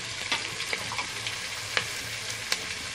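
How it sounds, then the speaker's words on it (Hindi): Onions frying in a pan for kadhi, a steady close sizzle with faint crackles and occasional stirring clicks, no talking. "देखिए हमारे प्याज भी थोड़े से भून चुके हैं।"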